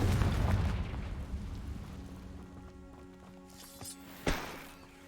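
A Confringo blasting spell explodes in Hogwarts Legacy, a loud booming burst that fades into a rumbling tail beneath sustained game music tones, followed by a sharp smaller impact near the end.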